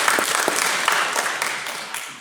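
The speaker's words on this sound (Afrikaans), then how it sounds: "kom ons klap ook vir haar, né?" A church congregation applauds a child together, a dense burst of clapping that fades away over a couple of seconds.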